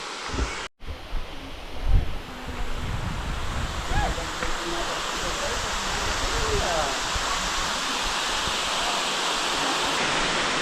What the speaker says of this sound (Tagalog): Pero unti nga lang yung tubig na dumadaloy din.